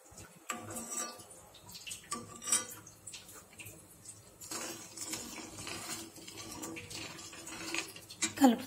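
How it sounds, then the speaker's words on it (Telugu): A spoon scraping and clinking against a pan while fat is stirred until it melts, with a steady run of faint metallic taps and scrapes and no talking. "కలుపుతూ ఉండాలండి"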